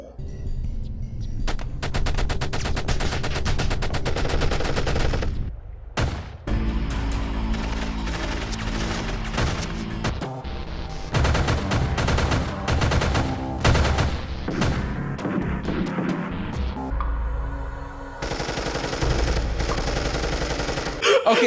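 Rapid bursts of gunfire and machine-gun volleys from a movie action scene, loud and dense, with several shots layered over a music score and broken by brief pauses.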